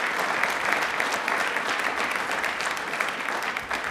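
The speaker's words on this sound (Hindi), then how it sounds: "दूरदर्शन की पूरी टीम के लिए तालियां जोरदार होनी चाहिए प्लीज" Steady, dense applause from a studio audience at a Doordarshan Rajasthan TV quiz show, loud and sustained for the whole stretch with no talk over it.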